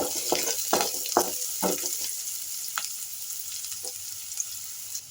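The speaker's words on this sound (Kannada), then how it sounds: "ಬೆಳ್ಳುಳ್ಳಿನ ಸೇರಿಸ್ಬಿಟ್ಟು ನೀಟಾಗಿ ಇನ್ನೊಂದು ಸತಿ ಎಲ್ಲವನ್ನು ಮಿಕ್ಸ್ ಮಾಡಿಕೊಂಡು ಫ್ರೈ ಮಾಡಿ" Crushed garlic frying in a pan as it is stirred and mixed, with a steady sizzle under a series of scraping stirs early on, then quieter sizzling with an occasional clink.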